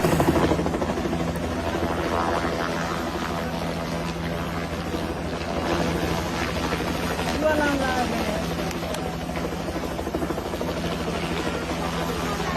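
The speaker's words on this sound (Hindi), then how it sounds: "हेलीकॉप्टर उसके करीब आता है" Rescue helicopter approaching a rooftop during a flash flood in Nepal, a steady rotor and engine drone that runs the whole time under a news narrator's voice.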